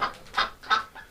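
A small indoor duck gives three close, clucking quacks in an even rhythm, each call short and fairly loud with brief pauses between them.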